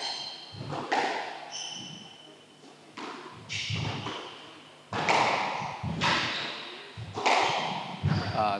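Squash balls are struck by rackets in a professional match between two players. Sharp cracks repeat every second or so, each with a hollow echo off the court walls, and a commentator talks over the rally.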